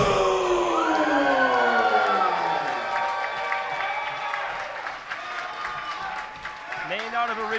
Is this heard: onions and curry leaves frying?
no